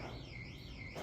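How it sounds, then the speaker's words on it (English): An outdoor alarm at a museum wails with a steady, wavering electronic tone that rises and falls continuously, fairly loud, with no voices. "That lovely sound you hear in the background is an alarm they have out here that's been going on and off all day"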